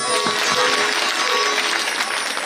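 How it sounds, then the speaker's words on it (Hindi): Audience clapping steadily throughout at a Bhagwat Katha religious discourse, a dense even wash of many hands with a faint tonal hum underneath. "भाई तालियां तो बजाइए।"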